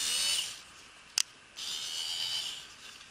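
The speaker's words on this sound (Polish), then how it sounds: "I możemy po prostu sobie wkręcać" A Niteo Tools cordless screwdriver whirs in two steady high-pitched runs while driving screws, close by, separated by a brief sharp click.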